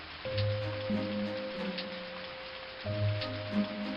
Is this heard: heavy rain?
yes